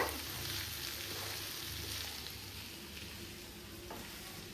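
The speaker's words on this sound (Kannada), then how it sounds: "ಇದನ್ನೆಲ್ಲ ನೀಟಾಗಿ ಮಿಕ್ಸ್ ಮಾಡ್ಕೊಳ್ಳಿ." Capsicum, onion, carrot and coriander get stirred together in a hot pan, with a continuous soft sizzle and scraping that fades slightly over a few seconds.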